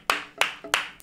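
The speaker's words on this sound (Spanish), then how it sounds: "Un aplauso, fácil." Four sharp hand claps ring out in quick, even succession, close and crisp, about a third of a second apart.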